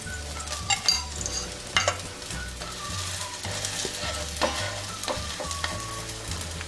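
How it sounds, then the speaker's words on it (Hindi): A farali thalipeeth made with sabudana, moraiya and raw potato is flipped and fried in a little oil in a pan, giving a close steady sizzle broken by several clinks and scrapes of a spatula. "तो इसे उल्टा करके अब इस पर हम थोड़ा सा तेल डालेंगे।"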